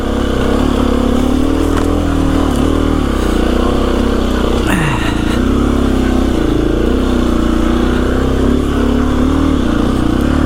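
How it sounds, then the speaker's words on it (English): KTM EXC-F 350 dirt bike engine held at low revs, clutch-moderated, a steady loud close thrum with slight wavering throughout and one brief revving swell near the middle. "Low revs, moderated with the clutch, slow and steady."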